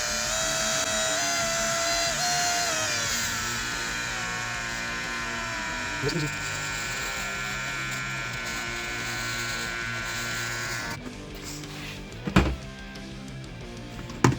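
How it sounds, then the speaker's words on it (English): A high-pitched electric drill whines steadily for a long stretch while converting a classic car's manual bench seat to power, then stops, followed by a couple of thumps and knocks nearby. "So I will get the drill and show you how to hook that up"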